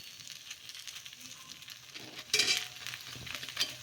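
Ponganalu (paniyaram) batter cooking in a covered pan, a soft, steady sizzle and crackle heard up close, with a brief sharp clink of metal partway through and no voices.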